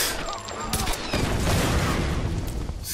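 Gunfire from the video game Tomb Raider 2013, a thick continuous volley of shots and impacts lasting a few seconds, loud and close with no talking over it.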